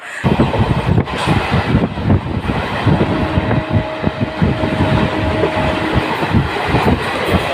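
A passenger train between Jagiroad and Guwahati in Assam rumbles steadily along with rhythmic clattering wheels and wind rushing past, loud and close throughout, with a faint whistle-like tone midway.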